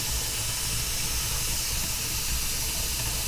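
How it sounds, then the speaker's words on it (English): Steady, continuous hiss of steam pouring from the vent pipe of a pressure canner loaded with dry garbanzo beans and green peas, even and unbroken throughout. "once steam is pouring out of this vent pipe, I set my timer for 10 minutes"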